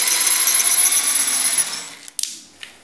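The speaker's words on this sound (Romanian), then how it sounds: "Găurim cu un burghiu cu diamant în gresia din ceramică fină și utilizăm apoi un burghiu pentru piatră." A drill with a diamond bit whines steadily while boring into fine ceramic tile on a shower wall, then winds down and stops, leaving a few light clicks and knocks.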